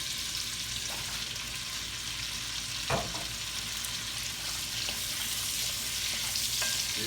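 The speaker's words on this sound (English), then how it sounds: "We're gonna put our onions in here." Onions cooking in a big pot of oil for an old-school smothered pot roast, a steady broadband sizzle with one sharp clank near the middle and faint scrapes, no speech.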